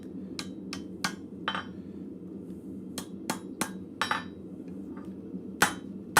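Hammer blows straighten a pair of flat bit tongs at a blacksmith's forge: about a dozen sharp, ringing metallic strikes, some in quick pairs, with pauses between, over a steady low shop hum.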